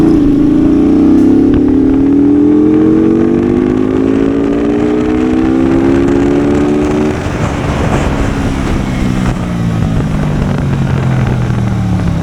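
A Benda Greystone BD250 motorcycle revs hard in second gear, its engine note climbing steadily in pitch, loud and close, then easing off and falling as the revs drop, with no talk over it.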